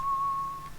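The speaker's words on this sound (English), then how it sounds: "he just walked up behind you whistling" A character in the video game Enderal whistles a short, steady single tone, clear and close, with no talking.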